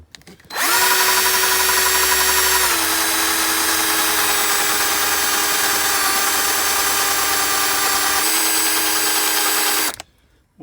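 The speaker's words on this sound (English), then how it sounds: "I'm drilling through the old primer and leaving a shell on the outside of it" A power drill whines steadily at close range for about ten seconds, drilling through a spent primer in a rifle cartridge case, its pitch dipping slightly as it bites, then stops abruptly.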